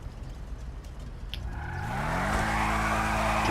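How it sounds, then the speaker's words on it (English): A car in GTA V does a tire burnout: a low engine drone builds into a loud, sustained screech of spinning tires from about the midpoint, with a rising rev and steady squeal to the end, no talk. "I'm going to get one more shot of my car burning out"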